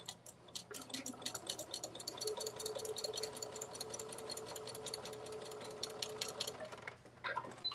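A sewing machine runs a straight stitch across a quilt, a fast steady mechanical clatter with rapid needle ticks, pausing briefly near the end before a few final stitches.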